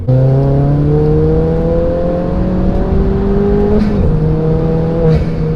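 A tuned 310 bhp Ford Fiesta ST engine, decatted, holds a loud, close rev with steady harmonic drone that dips and climbs slightly around the middle, with no voices over it.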